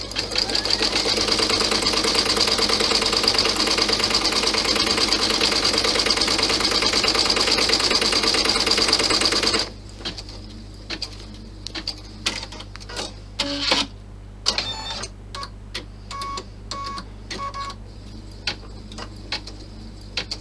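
A sewing machine stitches the seams of a clutch bag with blue thread, running in a loud, steady whirring rattle for about ten seconds, then stopping and leaving scattered clicks and handling taps.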